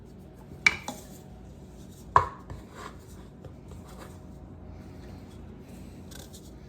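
Spatula scraping biscuit dough from a bowl onto a kitchen counter, with two sharp scraping knocks early on and then softer rubbing scrapes against a quiet background.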